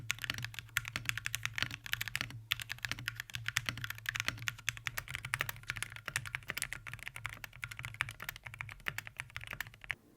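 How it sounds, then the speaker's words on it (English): Steady fast typing on a mechanical keyboard fitted with Akko Botany switches, mid-pitched and clacky: dense, continuous keystrokes close up, fairly quiet, with no talking. "the Akko Botany is a mid-pitched version of the Akko Rosewood. However, they sound very similar and they're both quite clacky."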